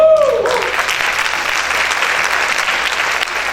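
Loud, continuous applause from a church congregation, many people clapping together in a steady wash of sound after a brief voice at the very beginning.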